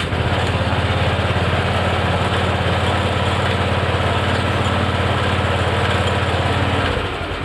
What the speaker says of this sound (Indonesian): lampu hijau menyala berarti ini kodenya terbaca dan mesin bisa dinyalakan